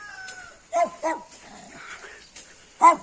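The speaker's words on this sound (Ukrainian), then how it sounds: "Собачка гавкає на мене." A small dog in a forest barks in three sharp bursts with short pauses between them, close by and fairly loud, with no talking.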